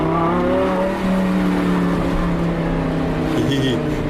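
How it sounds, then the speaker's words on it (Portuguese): A Lamborghini with an aftermarket intake filter revs and pulls, its engine droning loudly and steadily with a rising, shifting tone, the intake noise up close throughout. "Dá pra escutar o barulho do filtro puxando"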